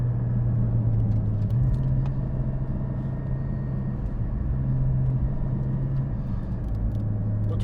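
Porsche GT4 with PDK gearbox cruising on the road in manual mode, a steady low engine drone with a humming tone throughout, continuous and even, no talking over it.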